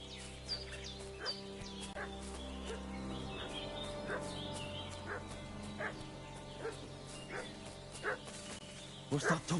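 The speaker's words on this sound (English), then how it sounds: "What's that dog making such a fuss about?" A dog barks and yips in the video game Kingdom Come: Deliverance 2, a scattering of fairly faint, irregular barks and whimpers over a busy outdoor game ambience with occasional bird calls.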